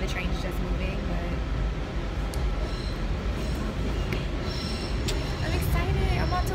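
A moving train gives a continuous, loud rumble with rattling and occasional faint squeals, while voices talk over it.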